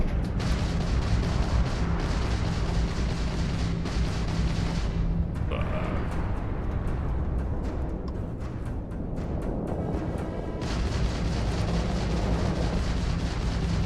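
Gunfire in the video game Starfield: a heavy, continuous barrage of rapid shots and booming impacts, briefly dropping to a muffled lull midway before the loud volleys resume, with no talk over it.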